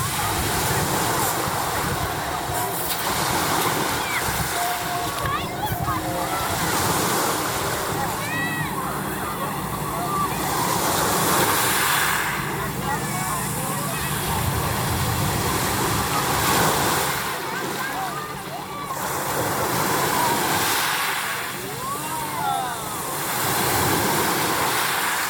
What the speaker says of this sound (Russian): Послушайте шум моря.